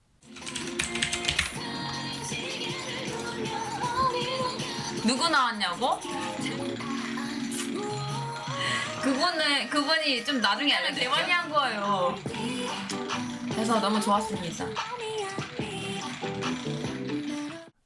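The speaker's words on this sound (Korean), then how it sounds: "묵은자님이 틀어놓은 달그락거리는 선풍기 소리가 꽤나 잘 들릴 거예요" An electric fan rattles with a steady mechanical clatter, picked up by a sensitive Blue Yeti microphone, running continuously under a person talking in Korean.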